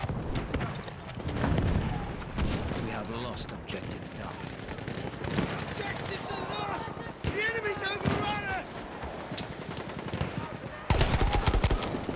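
Gunfire in the World War I shooter Battlefield 1, with assault-class weapon shots crackling in dense bursts across a busy, noisy battlefield mix while someone talks over it.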